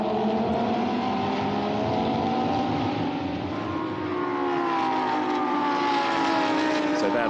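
Lamborghini Super Trofeo race car engines at Portimao, loud and close, revving with rising and falling pitch as the cars climb over a brow, under continuous race commentary.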